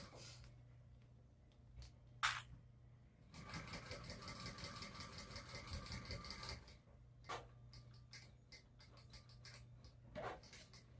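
A domestic sewing machine top stitching a fabric bag flap, a steady fast mechanical whir of a few seconds between short clicks and handling noises, quiet and close under a faint background hum.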